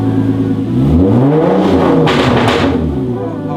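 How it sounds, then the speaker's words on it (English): A car with a 3.8 litre engine and automatic transmission revs hard, its steady loud drone climbing in pitch and then falling back, recorded close by. "Okay, watch, rev it."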